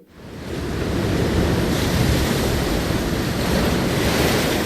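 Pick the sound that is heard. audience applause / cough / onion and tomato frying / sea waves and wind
sea waves and wind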